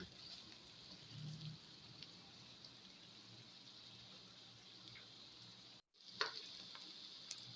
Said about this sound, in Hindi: अब इसको 2 मिनट के लिए हम सौते करेंगे।